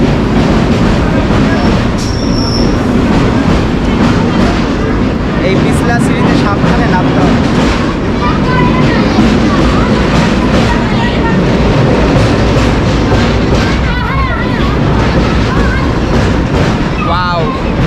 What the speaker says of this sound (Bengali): রেল স্টেশন আর ট্রেন যাচ্ছে খুব বেশি আওয়াজ